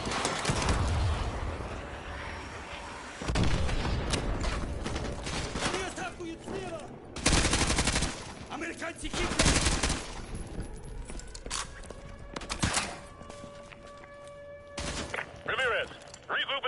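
Gunfire in a video game battle: bursts of rapid automatic fire and single shots crackle in irregular clusters, sometimes loud and close, sometimes thinner, with shouted voices and a background drone between volleys.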